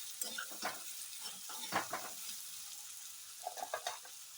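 Ridge gourd bhaji being stirred in a pan, with soft scraping strokes and a faint sizzle coming in short, irregular bursts at close range.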